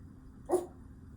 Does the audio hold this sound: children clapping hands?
no